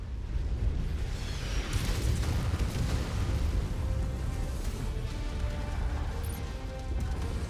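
AC-20 autocannon firing in MechWarrior 5 amid mech combat: heavy, continuous booming blasts and crashing impacts rumble loudly throughout, dense and low, with no voices.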